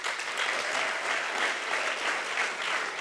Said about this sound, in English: Please, can you applause?